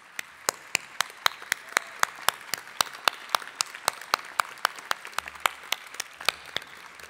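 A graduation ceremony crowd at Unitec applauds its teachers with crisp, evenly spaced claps in a steady rhythm. The claps are loud and carry a slight hall echo, with no voices over them.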